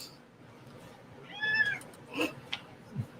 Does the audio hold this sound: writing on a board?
no